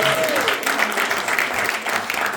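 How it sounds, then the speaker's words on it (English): A crowd at a march in Watertown, Connecticut claps steadily, a dense continuous patter of applause holding at the same level throughout, with a faint voice underneath. "Clap it up for me. Clap it up for me."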